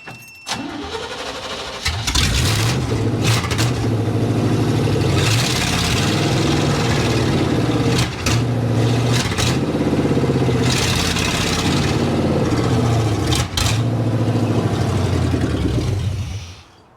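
A 1987 Chevy square body truck with a suspect distributor cranks and catches, then runs loudly and close with a rough, uneven drone that keeps surging and dipping, never settling into a smooth idle, until it cuts off.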